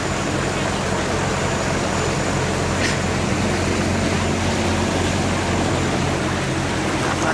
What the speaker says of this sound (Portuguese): Olha o carro passando.